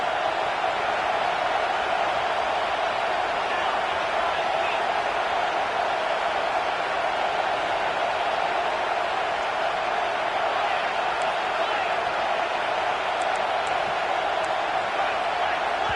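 In College Football 26, a roaring stadium crowd at a South Carolina vs Missouri game makes a dense, constant wash of noise that stays loud and even throughout with no break.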